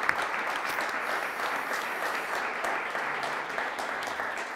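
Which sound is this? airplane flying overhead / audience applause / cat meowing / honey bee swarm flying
audience applause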